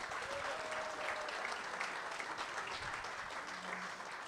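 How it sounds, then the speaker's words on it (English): A crowd applauds steadily at a live clubhouse event with a Green Bay Packers player, broadband clapping holding even throughout, with a few faint tones and murmurs underneath. "How about a big round of applause?"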